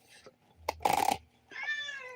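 A cat meows a few times, loud and close: a short call, then a longer drawn-out one, and a final tonal meow after a brief pause, in an otherwise quiet room.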